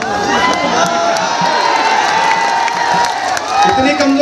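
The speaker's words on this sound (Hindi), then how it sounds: "इतनी कमजोर ताली से काम नहीं चलेगा" Dense crowd at a political election rally clapping and cheering loudly, with shouts and a loud voice mixed into the sustained roar.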